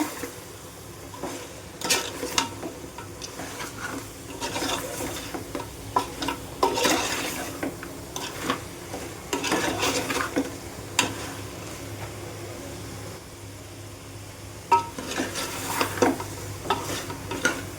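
Vegetable pieces tossed with salt and spices in a pan, with repeated scraping stirs and metallic clinks over a low frying sizzle, strokes coming in irregular bursts.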